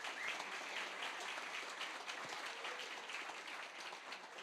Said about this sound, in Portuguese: Uma salva de palmas para eles, pessoal,